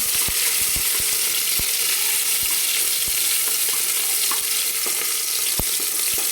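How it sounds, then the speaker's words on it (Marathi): Chopped onion fries in a pan, a loud, steady sizzle running throughout with scattered sharp pops and crackles, close and without any voices. "एक मोठा कांदा कट करून घेतला आणि याला छान एकदम तळून घ्यायचा"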